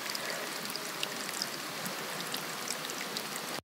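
Flowing water at a clean, very cold mountain water source on the GR11 trail in Navarra, a steady broadband rushing and splashing that holds unbroken and fairly close throughout, with no voices over it.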